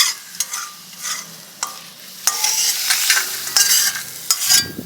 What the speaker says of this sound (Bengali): সবজিটা কষে নেব ভেন্ডি আর আলু